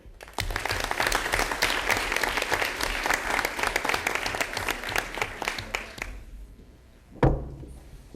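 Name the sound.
applause for third grade students at a board meeting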